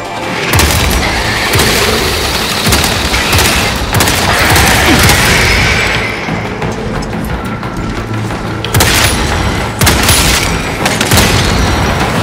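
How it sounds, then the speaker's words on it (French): Orbital cannon bombardment in Warhammer 40K Space Marine 2: a continuous loud barrage of deep booms and crackling blasts, with heavy strikes near the start and a fresh burst of impacts late in the clip. "Les voilà, les canons orbitaux."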